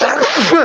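A single sudden human sneeze, close and loud, with a short breathy burst and a voiced tail, immediately followed by a brief spoken exclamation.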